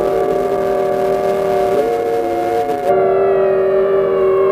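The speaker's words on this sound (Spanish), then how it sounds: "La CNT hace sonar las sirenas de las fábricas y del puerto." Factory and port sirens wail across Barcelona as an alarm, several sustained tones sounding together loudly, with one part cutting off near the end while a steady siren tone carries on.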